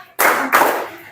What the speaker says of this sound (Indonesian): Tepuk 1. Tepuk 2.